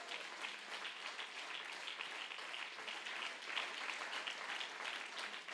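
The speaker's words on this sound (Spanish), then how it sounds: "Alguien tiene un aplauso para el Rey en esta hora." A church congregation at a convention service applauds steadily, a fairly faint, even wash of many hands clapping at a distance, with no pause or swell.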